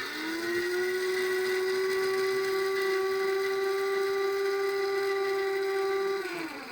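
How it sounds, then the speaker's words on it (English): A blender or food processor runs steadily with its lid on, grinding seeds for homemade tempeh bacon; a loud, even motor whine holds for about six seconds, then winds down at the end, with no talking. "You can use your blender or your food processor, but you want to make it into like ground"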